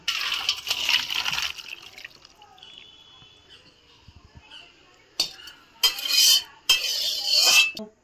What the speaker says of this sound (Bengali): কড়াটা উনুন থেকে নামিয়ে নিয়েছি, এবার আমি গামলাটায় ঢেলে নেব।